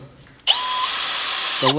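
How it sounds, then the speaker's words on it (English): Electric drill driving a CP-1000 wire puller, a loud whining motor spinning up abruptly and running steadily at close range for over a second, then cutting off, with a voice briefly heard before and after. "you got two different speeds on your drill"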